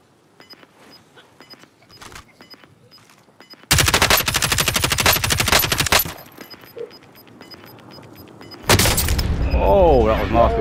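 Kilo rifle fire in a battle royale shooter game comes in two long, loud, rapid automatic bursts, with sparse lighter clicks and game sounds between them and a voice talking in the background.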